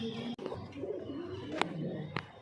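Pigeons coo softly in a loft, low throaty calls rising and falling continuously at moderate distance, with a couple of sharp clicks or wing taps between them.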